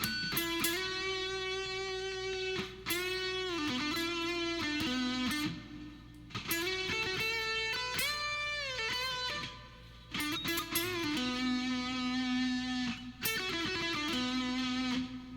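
A distorted electric guitar plays a phrase from the second solo of a song, with sustained bends and slides, loud and continuous, with brief pauses between runs.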